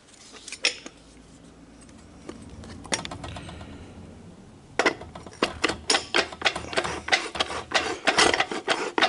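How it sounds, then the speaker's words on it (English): A 4L80E transmission forward drum is rocked back and forth over clutch teeth, giving close, irregular metallic clinks and scraping rattles that grow denser and more rhythmic toward the end. "Just kind of walk it back and forth till it grabs all those clutch teeth, drops into place."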